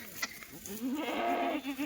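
Kathiawadi goats in a herd of more than ninety, one nearby letting out a drawn-out wavering bleat after a few faint calls, with the farm quiet around it.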